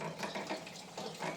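Water from an Equi Kool hose streams down a horse's leg in a soft, steady splashing flow with gentle pulses, close and fairly quiet, no voices.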